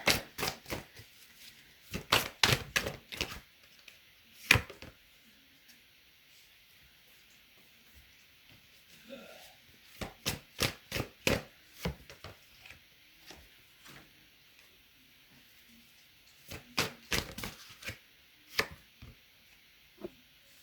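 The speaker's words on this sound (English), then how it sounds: "I am shuffling off camera today because I do not have enough room to shuffle in front." Tarot cards are shuffled in short bursts of rapid riffling clicks, separated by quiet pauses, close and fairly crisp.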